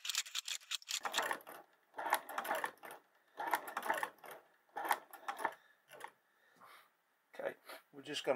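A $115 hand-crank leather stitching machine sews a sheath, giving bursts of rapid mechanical clacking and ticking separated by short pauses, close and fairly loud, with a person talking between the stitching runs.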